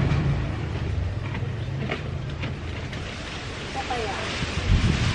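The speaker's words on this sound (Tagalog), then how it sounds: "Lakas ang hangin!" Strong wind gusting outdoors in a garden of potted plants, a steady broadband rush buffeting the microphone throughout with a louder gust near the end.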